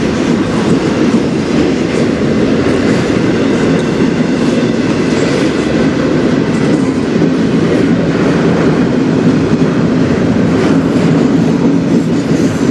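A CN intermodal freight train rumbles past close by on the Strathroy Subdivision, loud and continuous, with rhythmic wheel clatter over rail joints throughout.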